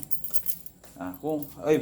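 Keys jangling close by in short metallic bursts, with a voice speaking over the later part.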